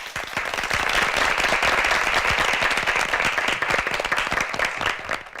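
Dense audience applause at a high school debate competition, many hands clapping steadily for several seconds and fading near the end, with no talk over it.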